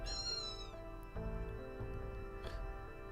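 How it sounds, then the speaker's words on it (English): A cat lets out a drawn-out, wavering meow up close, followed by a few softer mews over a steady background hum. "Was that a cat?"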